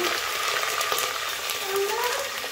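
Curry leaves hit hot oil with tempering spices and dried red chillies for sambar, making a close, steady crackling sizzle that continues throughout without talk.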